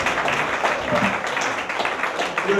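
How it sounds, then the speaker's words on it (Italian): A crowd at a 50th birthday party applauds steadily, a dense, continuous wash of clapping with faint voices mixed underneath. "Facciamo un applauso a Rosario Cimelli per i 50 anni."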